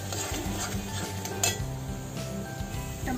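A spoon scrapes and stirs spices and tomato roasting in a pan for dhaba-style dal tadka, with soft sizzling and repeated metallic clinks against the pan, no voices.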